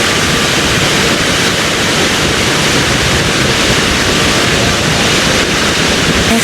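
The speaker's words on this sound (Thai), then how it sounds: "เนี่ยเป็นน้ำตกที่เพิ่นสร้างเพิ่นเฮ็ดขึ้นมา" A man-made waterfall at a temple in Laos pours in a loud, steady, dense rush of water that fills the whole stretch without a break.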